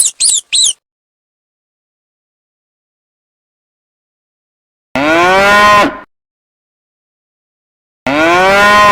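Two long, loud cow moos, each about a second, separated by silence, following brief high chirps at the start.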